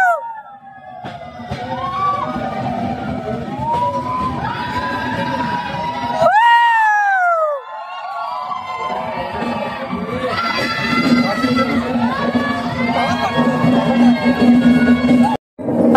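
Passengers on the Visakhapatnam to Araku Valley train shout, whoop and whistle in a loud, continuous crowd roar while passing through tunnels, with a brief dip midway before the yelling and whistles surge again.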